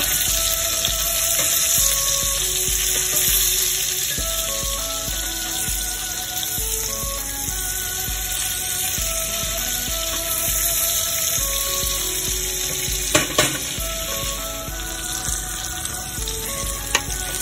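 Shallots browning in a hot pan for a rabbit-in-mustard dish give a steady, close sizzle and crackle, with occasional utensil clinks and a brief scrape, no voices.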